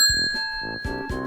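A doorbell-style weapon skin in the video game Roblox Rivals gives bright, ringing ding-dong chimes, several short bell tones in quick succession, clear and alone.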